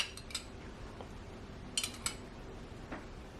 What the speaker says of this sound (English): And now I'm adding my lemon elderflower spread.